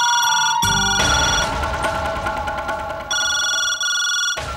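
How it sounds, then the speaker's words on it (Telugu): A telephone rings indoors in a home drama scene, with loud electronic bell bursts separated by short pauses and no talking. "వెంకట్రావు ఫోన్ అనుకుంటా, ఎత్తు బావా."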